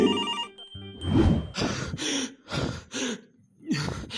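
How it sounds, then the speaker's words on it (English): A telephone rings in a tense drama scene, with a repeating electronic ring pattern early on, then gasping, panicked breathing and vocal sounds from people over and after it. "The phone's ringing."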